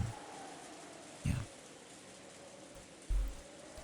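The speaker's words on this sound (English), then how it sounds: "All that could be heard was the sound of the rain, which hadn't stopped falling since last night" Steady, faint rain falls continuously, with a couple of soft low thumps.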